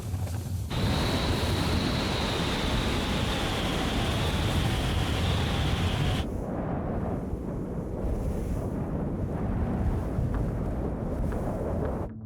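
A strong gale buffets a tent on the Antarctic ice, a loud, unbroken roar with a thin whistling tone through the first half before it drops to a duller, steady rush.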